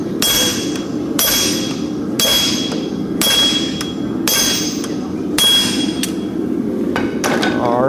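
A farrier strikes a horseshoe with a flatter at the forge, giving about seven sharp, ringing hammer blows at a steady, unhurried pace, close and loud with no talk.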